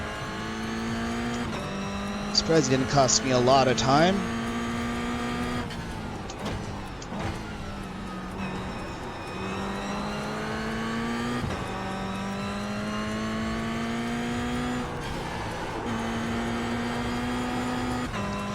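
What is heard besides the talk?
GR86 race car engine in iRacing video game at Tsukuba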